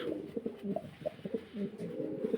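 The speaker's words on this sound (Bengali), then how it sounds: "দেখেন এগুলো হচ্ছে অরিজিনাল মুন্ডিয়ান কবুতর" Mundian pigeons coo softly and repeatedly at close range, a low rhythmic burbling of overlapping calls from several birds in a quiet space.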